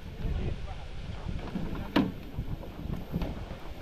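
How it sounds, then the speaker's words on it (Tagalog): Strong wind blows steadily over the microphone near the water, a broad continuous rush with gusty surges and a few brief knocks. "Ang lakas din naman talaga ng hangin din eh."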